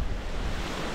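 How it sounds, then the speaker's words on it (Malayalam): Sea waves wash and surge behind a reverse-osmosis plant on Bitra island in Lakshadweep, a steady broadband roar mixed with wind buffeting the microphone, no voices. "ഇപ്പോൾ ഇവിടെയുള്ള ഈ ആറോ പ്ലാന്റിന്റെ പുറകു വശത്തുള്ള കടൽ ഭാഗം"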